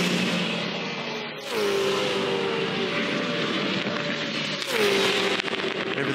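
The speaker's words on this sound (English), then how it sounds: "The other thing I really love is just the sound of these cars at this place." V8 Supercars race past at Bathurst during practice, engines screaming near peak revs. Two cars sweep by in turn, each rising to a loud pass and then dropping in pitch as it pulls away, over a steady engine roar.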